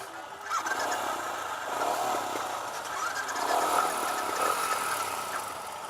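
A Royal Enfield Himalayan motorcycle engine runs in neutral, a steady mid-pitched idle that swells slightly in places, heard close and alone without talk.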